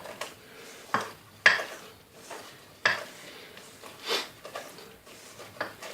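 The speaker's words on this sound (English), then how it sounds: "we have to stir with the wooden spoon until the mixture is well combined" A heavy-duty wooden spoon stirs a thick doughnut mixture in a bowl, making irregular scraping knocks and soft thuds against the sides at a loose, uneven pace, close up and with no talk.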